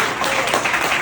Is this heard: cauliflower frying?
no